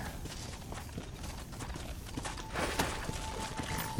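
Horse hooves clip-clopping in the video game Red Dead Redemption, a quiet, steady patter of hoofbeats under a low ambient game bed.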